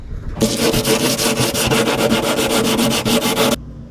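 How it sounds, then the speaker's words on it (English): Sanding the epoxy-coated surface of an old paddleboard makes a close, loud, rhythmic scrubbing, with quick repeated strokes for about three seconds and then stopping abruptly. "So we're gonna have to sand down this surface"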